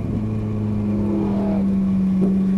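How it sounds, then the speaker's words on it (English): Chevrolet Corvette race car on the Auto Club Speedway track passes close by, its engine a loud steady drone that holds its pitch with a slight rise. "We got the Corvette coming through."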